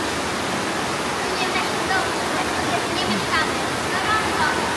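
Hot tub massage jets churn the water in a steady, loud rush of bubbling and hissing that holds evenly throughout, with faint voices under it.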